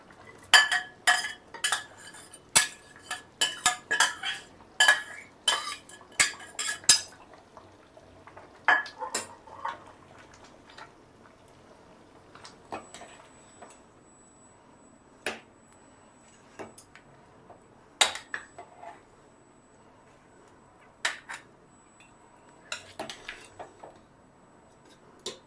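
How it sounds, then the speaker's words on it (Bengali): A spoon mixes egg and potato into khichuri in a pot, giving irregular metallic clinks and scrapes that come in quick clusters early on, then sparser single knocks against a quiet background, with no talking. "এবার মিশিয়ে দিচ্ছি ডিম আর আলু।"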